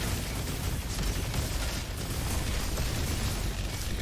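Continuous barrage of overlapping explosions from a rocket jump build in a video game, a dense rumbling crackle with no clear gaps, moderately loud and unbroken.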